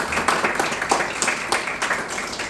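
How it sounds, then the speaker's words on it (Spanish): Audience at a book event applauds an author with moderate, steady clapping from a small crowd, heard at a slight distance with a rhythmic texture. "Un gran aplauso para don Matías Garretón"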